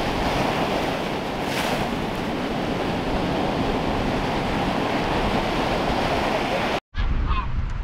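Baltic Sea surf rolls onto the shore beside a campsite on the Polish coast, a continuous loud wash of waves mixed with strong wind buffeting the microphone, with a brief cut near the end.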